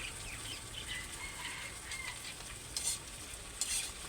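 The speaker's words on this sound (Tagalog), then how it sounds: "Lagyan din po natin ng kaunting suka." Tilapia fries in a pan as vinegar is poured in, giving a constant dense sizzle with faint stirring and a couple of brief louder crackles near the end.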